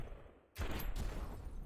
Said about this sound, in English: particularly these things that are just spraying bullets everywhere